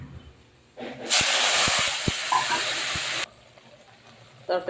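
Jute greens tossed into hot oil with reddened fried garlic burst into a loud hissing sizzle that holds for about two seconds, then cuts down to a soft frying crackle.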